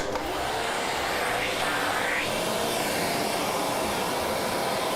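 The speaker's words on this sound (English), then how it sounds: "Forgot to plug the vacuum cleaner in." A vacuum cleaner runs steadily at close range, a loud, constant whooshing drone that holds unchanged for the whole stretch with no other sounds breaking through.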